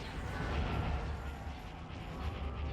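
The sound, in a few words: cannons firing in the video game Star Wars: Empire at War, Awakening of the Rebellion mod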